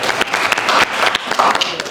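Audience clapping at an annual finance forum meeting, a brief burst of fairly close applause with some faint voices underneath.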